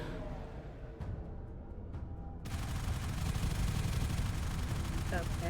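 Railjack cannon fire in the Warframe video game: sharp booming shots crack out around one and two seconds, then a dense, sustained roar of gunfire and rumble fills the rest, loud and close.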